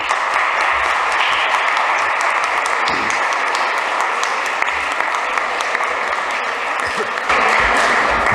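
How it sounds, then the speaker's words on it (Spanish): An audience in a library hall applauds the director of the Biblioteca Valenciana, a sustained, dense wash of clapping from many hands that runs steadily for over eight seconds and swells slightly near the end. "hoy voy a pedir un aplauso para la directora de la Biblioteca Valenciana"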